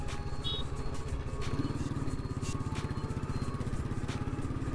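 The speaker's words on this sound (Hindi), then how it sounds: "देख सकते हैं बाइक की आवाज़ सब कुछ बिल्कुल एकदम प्रॉपर आ रही होगी।" A motorcycle engine drones steadily with a rhythmic low pulsing throughout, heard from on the bike while riding, with no voices.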